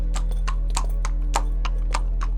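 Przewalski's horses walk through the Chernobyl exclusion zone, their hooves striking in a steady clip-clop of about eight evenly spaced beats over a constant low hum.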